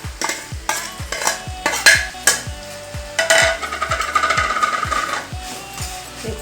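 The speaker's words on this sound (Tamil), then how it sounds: "மிக்ஸ் பண்ணி கிளறி விட்டு நல்லா இன்னும் வதங்கட்டு." Dry fish being stirred into fried onions and tomatoes for karuvadu thokku, a steady rhythmic scraping of a spoon against the pan, roughly twice a second, over a continuous close sizzle with no talking.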